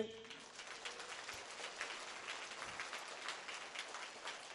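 Faint, dense clapping from a church congregation with raised hands, a steady patter of many hands continuing without a break.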